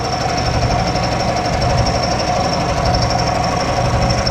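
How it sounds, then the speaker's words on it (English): A fly cutter taking a facing pass on hot rolled steel at about 600 RPM: a loud, continuous machining drone with a dense, even chatter and a sustained high whine above it, no talk. "I got it set about 600 RPM and let the fly cutter do its thing."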